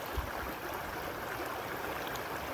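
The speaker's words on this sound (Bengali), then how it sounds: "এটা হচ্ছে সেই চাঁদপুর ছড়া" A small hill stream called a chhara runs over small stones in Sunamganj, giving a steady, soft, continuous rush of water with no talk.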